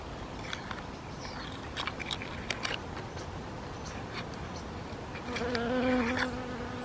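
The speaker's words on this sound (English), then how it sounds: "There's all sorts of bees here, and flies. There's another honeybee." Honeybees and flies buzz around a flowering Mahonia in a December garden, a steady close insect drone with a louder bee passing near the end, and no talk.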